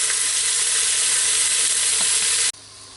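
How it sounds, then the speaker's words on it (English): Beef sizzles loudly and steadily in a hot pan on high heat as it browns under stirring, a dense continuous frying hiss that cuts off abruptly near the end. "While the meat's browning"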